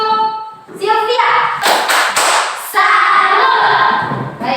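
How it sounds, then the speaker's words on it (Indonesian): Children in a classroom clap in a rhythmic cheer for a classmate, with bursts of sharp claps among loud, chanting young voices. Talking and clapping trade off and overlap throughout. "tepuk salut untuk Sylvia"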